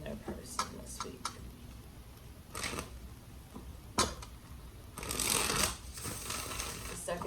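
A stiff deck of cards is shuffled up close in a few quick riffling bursts and snaps, with a longer riffle near the end, while a person talks over it.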